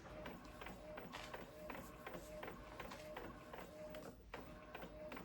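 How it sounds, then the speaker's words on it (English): An inkjet-style printer runs steadily, printing images of a Cricut design for custom plates, with repeated rhythmic mechanical passes and a faint tonal whine throughout, moderately close and continuous. "right now I am printing out the images from my Cricut design space"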